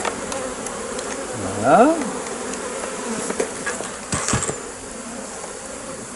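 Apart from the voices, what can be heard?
honeybees buzzing in an open beehive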